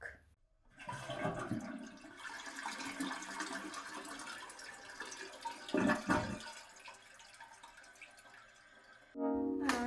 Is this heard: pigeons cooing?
no